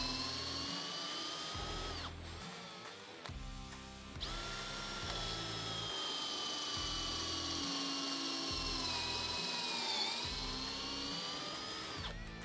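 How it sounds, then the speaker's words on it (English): A power drill whines at high speed, boring a pocket hole through an Armor Tool pocket hole mini jig for several seconds, stopping briefly, then spinning up again for a long continuous run. "clamp it down, and drill a pocket hole"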